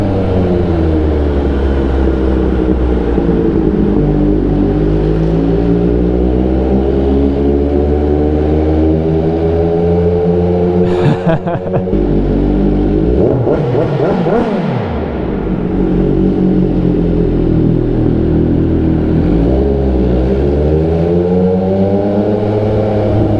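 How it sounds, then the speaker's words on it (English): An MV Agusta race motorcycle engine rumbles loudly and steadily in a parking garage, its echoing drone shifting pitch as it revs up and settles, with a brief sharper burst midway. "Bike sounds ridiculous in the parking garage."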